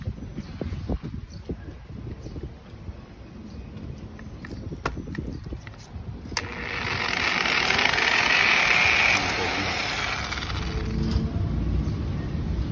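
A fast-spinning buffing machine that wobbles because its pad is mounted unevenly, starting partway through with a steady, loud whirring drone that swells and then holds.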